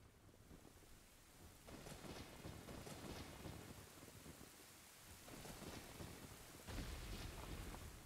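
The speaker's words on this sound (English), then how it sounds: "Why is it raining?" Rain and thunder in the video game Zelda Ocarina of Time, a faint steady patter of rainfall with soft rolling thunder swelling in several times.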